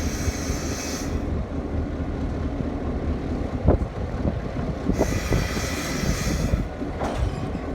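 A train rolls steadily along the rails with a continuous low rumble, occasional sharp clanks and brief bursts of hissing, fairly close and loud, with no voices.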